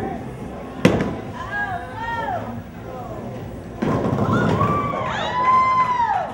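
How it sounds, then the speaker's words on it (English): Friends cheer bowlers at Fox Bowl, a bowling alley in Wheaton, during visually impaired bowling: a sharp crash of pins followed by bursts of excited crowd cheering and shouts, lively and close. "plenty of cheering from their friends"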